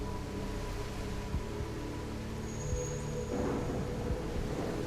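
A thunderstorm rolls through the dinosaur survival game The Isle Evrima, giving a steady wash of rain and wind with low rumbling that swells near the end. There is no talk.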